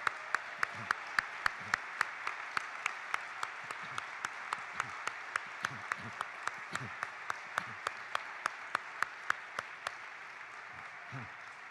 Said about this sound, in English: please stand up for a round of applause